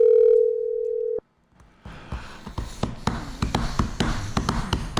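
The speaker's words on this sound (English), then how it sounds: "we're trying to get a phone call here." Steady telephone dial tone holding for about a second before cutting out, followed by a short silence and then a run of faint clicks and taps with background hiss while a call is placed.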